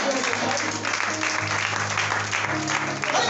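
Congregation applauding during a church service, a dense, steady wash of clapping filling the whole moment, loud and continuous with a few low voices and tones underneath.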